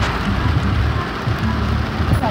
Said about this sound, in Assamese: বৰষুণ আকৌ এইটো টাইমতো দিবলৈ পাৰিছে